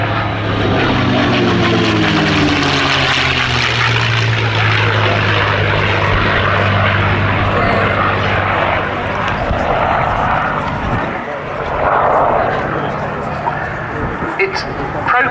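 A North American P-51 Mustang propeller fighter flying at the Cosford Air Show 2025, its loud piston engine droning and roaring steadily with a shifting pitch as it passes, with talk over it.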